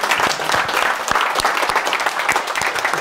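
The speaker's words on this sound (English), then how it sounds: "Guy, round of applause." A conference audience applauding after a live coding demo at a WebRTC streaming talk: dense, loud clapping from many hands, continuous and close throughout, with no clear voices above it.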